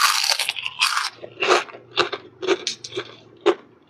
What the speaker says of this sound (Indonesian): Masya Allah super duper crispy banget, renyah banget ya.